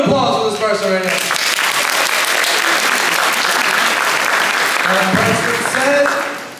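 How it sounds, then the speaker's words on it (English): Audience applause fills a high school assembly hall, a dense, steady burst of many hands clapping that swells in, holds loud for several seconds, then tapers with voices emerging near the end. "Round of applause for this person right now."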